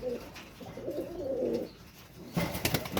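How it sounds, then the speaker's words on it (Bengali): Male high-flyer pigeons cooing close by, soft rolling coos in a short phrase, then a few sharper clicks and flutters. "এখানে হচ্ছে দুইটাই নর কবুতর"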